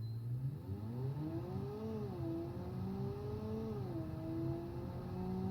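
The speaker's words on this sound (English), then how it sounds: "let's see how fast this car accelerates" A custom-designed car accelerates hard in the Automation car design game, its engine note climbing steadily through gear changes with brief dips as it shifts, a quiet continuous drone without talking.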